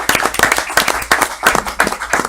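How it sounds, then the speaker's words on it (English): Loud, close applause at a city commission meeting, with claps coming in steady, regular bursts and no talk over them. "That's a big round of applause."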